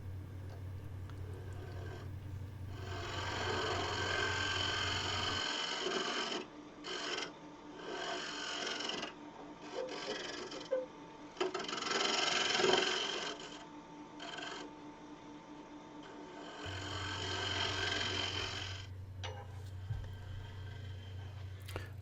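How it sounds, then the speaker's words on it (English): A large negative rake scraper works across a woodturned bowl on a lathe, producing rasping scraping passes in uneven bursts over the low hum of the spinning machine, which drops out midway and returns near the end. "now I'm using a large negative rake scraper to kind of clean up some of the tool marks"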